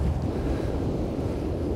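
Steady roar of surf and wind on the North Sea beach at Norderney, a dense, continuous wash of breaking waves with wind buffeting the microphone, loud and unbroken throughout.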